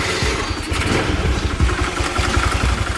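Honda Vario motorcycle with a carburetor, newly fitted with a CPO PE 24 unit, its engine cranking and catching into a loud, close, uneven sputtering idle throughout.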